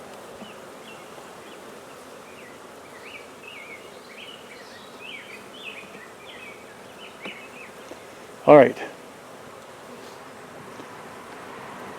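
Steady insect buzzing of many bees around a hive fills the clip, with a brief loud knock near the end and a short spoken remark.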